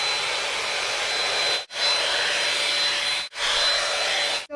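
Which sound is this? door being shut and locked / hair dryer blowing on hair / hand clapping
hair dryer blowing on hair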